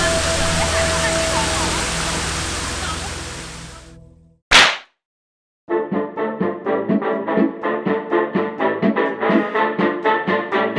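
The Erawan waterfall in Thailand, around the fifth level, makes a loud, steady rushing roar for about four seconds. After a sharp slap and a short silence, a series of rhythmic close splashes follows.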